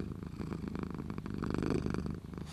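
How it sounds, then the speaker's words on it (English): A cat purrs steadily up close, a low continuous rumbling throb that holds even for a couple of seconds without any talk. "he's purring"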